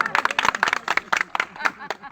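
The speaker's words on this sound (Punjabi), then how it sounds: "ਮਾਰੋ ਤਾੜੀਆਂ" Bursts of hand clapping from a group at a MGNREGA workers' meeting in Tari village, sharp uneven claps mixed with voices talking over them.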